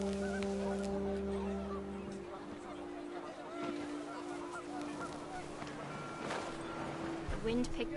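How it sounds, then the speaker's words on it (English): Panicked geese honk in a video game scene, with a loose flock calling repeatedly over steady wind and ambient noise, some calls sharp and near, others more distant. "The wind picked up, and panicked geese appeared and quickly went."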